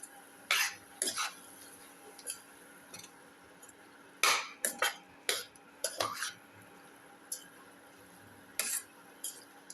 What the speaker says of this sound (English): Mix thoroughly for 4 to 5 minutes.